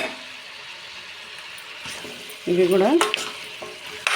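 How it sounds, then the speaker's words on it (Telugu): Cut ivy gourd pieces land in a pan of frying chicken curry, setting off a sudden louder burst of sizzling and stirring scrapes over a quieter steady hiss, with a brief spoken voice. "ఇప్పుడు కట్ చేసుకున్న ఆనకాయ ముక్కలు వేసేస్తున్నా"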